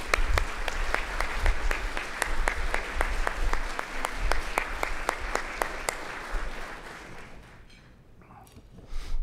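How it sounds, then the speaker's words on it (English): An audience at a public safety awards event applauds staff and board members, brisk dense clapping that holds steady and then thins out and fades toward the end. "give them a round of applause for me to let them know how much we appreciate it."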